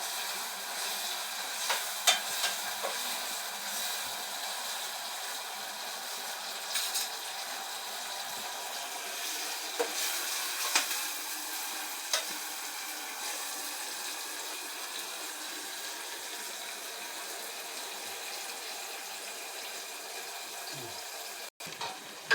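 Tomatoes and curry leaves crackling in a hot spice tempering for dal, a soft, even sizzle with a few faint clicks, fairly quiet and without talk.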